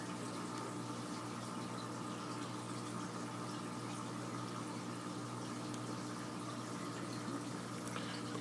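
Steady, continuous bubbling and trickling of water from a sponge filter in a home aquarium holding tetras, an even low-level wash with no pauses and no voices.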